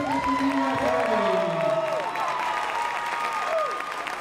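Spectators at a varsity ice hockey game applaud steadily in a large rink, a broad crowd-wide clapping texture with sustained tonal sounds like an organ or horn sliding above it.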